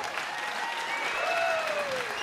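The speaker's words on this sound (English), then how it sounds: "a round of applause for both fighters," Steady applause from the crowd at a boxing event after an eight-round fight, an even wash of clapping at moderate distance with a sliding electronic tone sweeping through it.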